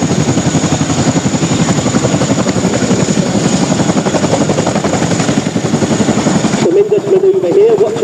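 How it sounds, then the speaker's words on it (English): Royal Air Force Chinook twin-rotor helicopter holding a nose-high manoeuvre at the Malta International Airshow, its rotor thump steady and loud throughout, dropping to a quieter, tonal engine whine near the end. "the nose of the Chinook is very high, which means the rotors at the back get quite near to the ground"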